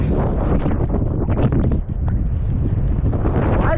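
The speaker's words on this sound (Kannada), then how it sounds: "ಫುಲ್ ಹೆವಿ ಗಾಳಿ ಇದೆ ಇಲ್ಲಿ" Strong wind in thick fog buffets the microphone in a steady, heavy rumble that keeps up without a break.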